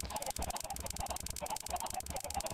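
Chickens in a video game make a rapid, repetitive clicking and clucking, a busy rhythmic pattern of short bursts running continuously at moderate volume.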